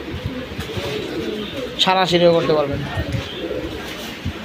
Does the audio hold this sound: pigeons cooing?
yes